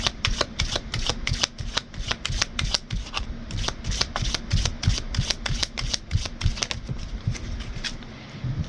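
Tarot cards being shuffled to draw a clarifier card, a fast run of crisp riffling flutters lasting several seconds close to the listener, then trailing off quietly.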